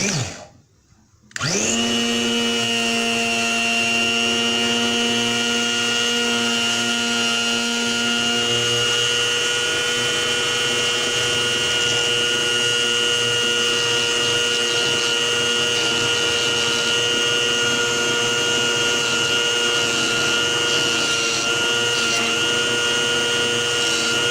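A homemade rotary tool built on a 125-watt hand mixer AC motor starts up, then holds a steady, loud, high motor whine with buzzing overtones that runs unbroken to the end.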